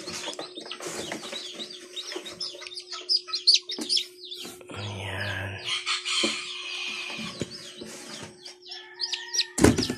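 Small chicks placed under a brooding hen chirp in quick, high, scattered peeps, with a low steady hum underneath and a few louder bursts.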